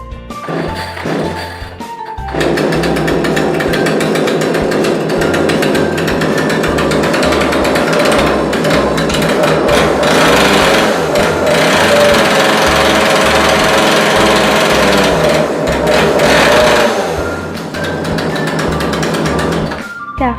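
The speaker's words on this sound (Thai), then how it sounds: "เสียงเครื่องยนต์เมื่อกี้ลูกค้าจะสังเกตได้ว่าเครื่องยนต์วูบเร่งเครื่องไม่ขึ้น" A KANTO KT-CS1700 chainsaw's small two-stroke engine runs loud and steady close by, its pitch surging and dipping as it is revved, bogging down and failing to rev up cleanly.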